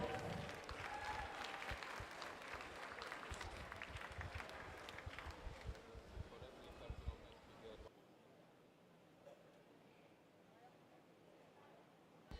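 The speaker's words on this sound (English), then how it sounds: "let's give them a cheer as they come in" Spectators at a county swimming meet clap and cheer as swimmers finish a race, a loud echoing crowd roar with an announcer's voice over it, cutting off sharply to a quiet hall hum.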